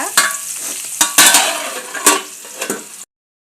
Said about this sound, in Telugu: దొండకాయలు వేగుతున్నాయి కదా